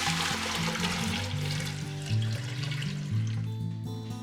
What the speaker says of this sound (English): Fill it with 4 quarts of tap water.